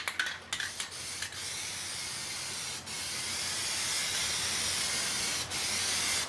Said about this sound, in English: I also like to free spray just a little bit before I actually do start spraying.